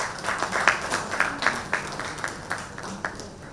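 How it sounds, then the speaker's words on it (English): A small audience at a housing discussion session claps, with sparse, distinct hand claps in a loose, uneven rhythm, fairly close and moderately loud. "A round of applause for them once again."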